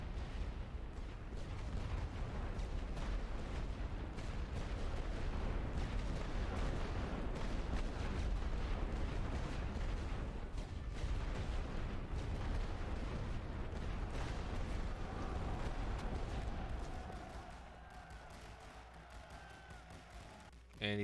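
Artillery barrage in The Great War: Western Front during the First Battle of Ghent, a dense, continuous rumble of overlapping booms and bursts for most of the stretch before easing off, with faint voices underneath.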